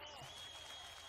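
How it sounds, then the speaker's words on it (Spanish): A festival crowd applauds a band, heard as a faint, continuous wash of distant clapping with no distinct individual claps standing out. "Pero fuerte el aplauso para esta banda"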